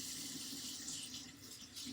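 Warm water runs steadily from a kitchen tap into a sink while communion bread is being prepared, a close continuous hiss and splash with no voices.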